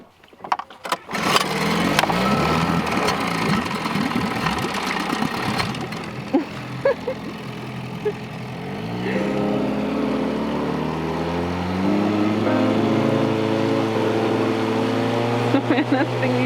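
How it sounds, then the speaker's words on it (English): Outboard motor on a small dinghy running steadily near a sailboat off Vancouver Island, a continuous droning hum that shifts pitch partway through as it pulls away, with a brief clatter at the start. "Lyndon's gonna go take the dinghy for a rip."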